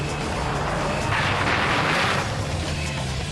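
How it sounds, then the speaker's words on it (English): A rally car engine in Gran Turismo 4 roars steadily while popping and banging, a loud, constant exhaust crackle with a brighter burst in the middle. "hear the engine popping and banging like rifle fire"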